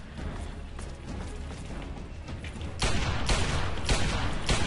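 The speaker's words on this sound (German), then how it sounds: "Er hat eh nur eine Gatling Gun" Gatling gun fire in Fallout 3, heard as rapid bursts of loud gunfire over a busy battle din, growing louder and harsher partway through with sharp repeated cracks.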